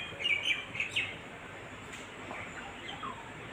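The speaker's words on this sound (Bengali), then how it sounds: "অনেক রকম পাখির ডাক এখানে শোনা যায়।" Various birds call faintly in the morning beside the Murti river at a Dooars resort, with a few thin, high chirps early on over a steady outdoor hiss.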